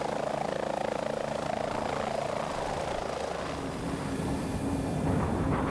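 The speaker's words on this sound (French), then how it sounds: "les navires qui empruntent ces voies sont souvent accompagnés par des hélicoptères" Helicopter flying over a shipping lane, a steady, loud rotor and engine roar with a dense, rushing texture that holds throughout without talk.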